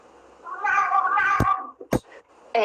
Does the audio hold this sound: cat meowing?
yes